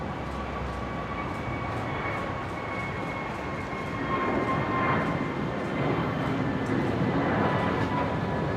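A Jetstar airliner takes off from runway 01 right at Brisbane Airport, a steady broadband engine roar that swells louder partway through and holds strong, heard alone from a distance.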